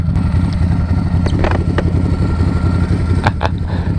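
Ducati Hypermotard 1100 motorcycle engine running steadily while riding, a loud continuous low drone with brief louder surges, close and alone with no talk.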